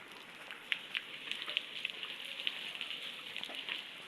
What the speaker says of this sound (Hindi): ये देखिए जी ये ऊपर से पानी आ रहा है।